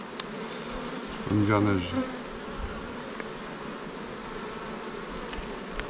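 Honeybees of a favoured, calm strain buzz around a hive readied for winter, a steady close hum with a louder swell of wingbeats for a moment, and a brief voice speaking partway through.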